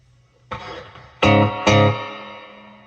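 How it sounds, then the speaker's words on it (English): Guitar played through a 1978 Fender Princeton Reverb amp with reverb on, three loud strummed chords each ringing out into a long, washy reverb tail. "Oh, and now that reverb is like really come out too."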